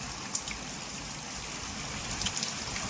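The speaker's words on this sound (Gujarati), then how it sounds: "મિત્રો મસ્ત મજાની વરસાદ ચાલુ થઈ ગયો" Steady rain falls outdoors as a dense, even hiss with scattered nearer drips and taps, continuous throughout and without any voices.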